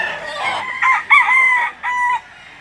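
A rooster at a poultry market in Lipa City, Batangas crows once, close and loud, in a broken two-part call lasting about two seconds.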